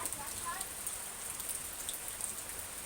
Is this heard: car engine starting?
no